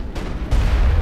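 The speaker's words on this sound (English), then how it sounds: "That's a rocket." A rocket launched in the video game Mass Effect during the Therum landing fight, a single deep, loud boom that swells into a heavy rumbling blast partway through the moment.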